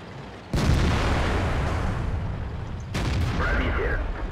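Tank cannon shot in World of Tanks with a T-44-85 Soviet medium tank: two abrupt loud booms followed by rumbling engine and battle noise, close and heavy.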